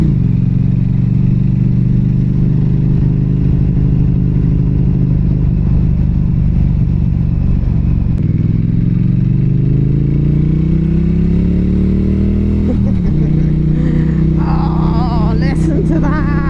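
A 2023 Norton Commando 961 SP twin with twin exhausts rumbles loudly and steadily while riding, the engine note rising and shifting through gears, with wind roar and a voice talking over it.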